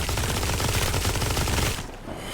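Rapid automatic fire from a new weapon with a boosted fire rate in the video game Blood Reaver, a dense, loud, continuous burst that cuts off near the end.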